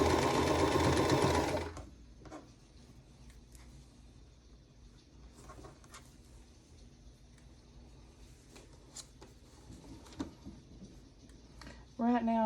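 A sewing machine stitches a quilt block for a vintage spool-and-bobbins pattern, running loud and steady for about two seconds before cutting out, leaving quiet room sounds with small clicks and a brief burst of whirring at the end.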